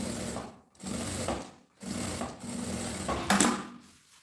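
Sewing machine stitching cotton fabric for a zip cosmetic case, close and fairly quiet, running in four short bursts of steady whirring separated by brief pauses.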